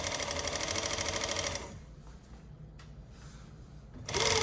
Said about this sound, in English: So you can be winding a bobbin as you're sewing your projects